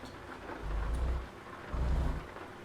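Rain with rolling thunder during a storm in the video game S.T.A.L.K.E.R. with the Anomaly mod, with rain set to maximum: a steady hiss of rainfall broken by two deep, loud thunder rumbles, each lasting about half a second.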